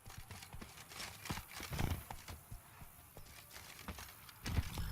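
Rhythmic horse hoofbeats clip-clop at a moderate pace, fairly close, with a few heavier thuds mixed in, in the video game The Witcher 3: Blood and Wine.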